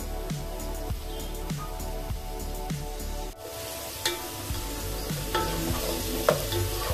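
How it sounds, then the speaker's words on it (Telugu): Onions fry in oil in a pan on a stove while being cooked for prawn biryani, with a steady sizzle, repeated scraping stirs and occasional clinks, close up. "ఆనియన్స్ ఫ్రై అవుతున్నాయండి"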